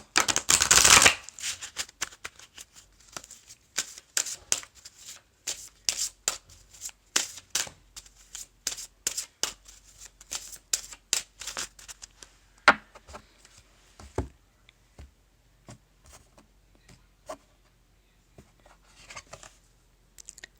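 Tarot cards shuffled and dealt: a loud riffle burst at the start, then a long run of quick, crisp slaps and flicks as cards are pulled and laid down, close up with no talk.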